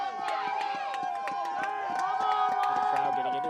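Crowd noise at a high school boys lacrosse game late in a close contest, a lively mix of shouting spectators and whoops with sharp stick and ball clacks, steady and moderately loud.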